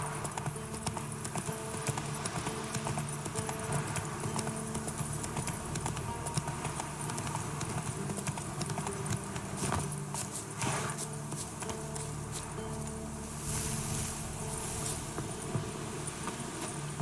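Roach the horse trots along in The Witcher 3, hooves clip-clopping in a steady, fairly close rhythm over an ambient game soundscape.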